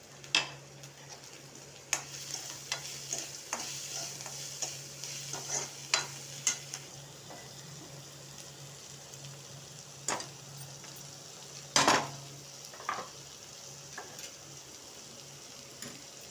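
Onion and grated coconut sauté in a pan with curry leaves, a soft, steady sizzle broken by sporadic ticks and scrapes of a spoon, one sharper clack near the end.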